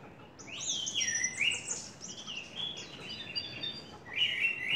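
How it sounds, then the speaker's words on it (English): Caged birds sing in a hotel garden, a run of bright chirps and warbling song phrases going on steadily without pause, fairly close and clear over a soft background hiss. "You hear the birds singing."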